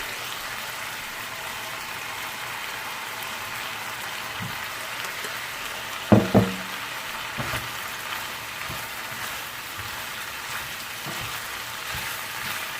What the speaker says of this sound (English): Now I'm gonna add some onion.